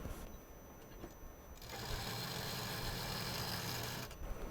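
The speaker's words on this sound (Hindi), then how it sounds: "अब ये जो सीधी सिलाई हमने की है" A sewing machine runs a straight seam on scrap fabric while a pouch is made, a steady whirring motor hum that starts softly and then holds loud and even for a few seconds before easing off.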